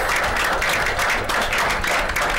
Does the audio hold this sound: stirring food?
no